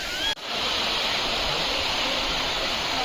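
Waterfall near a hilltop temple: a steady, close rushing roar of falling water that fills the whole stretch, with only a momentary dip near the start.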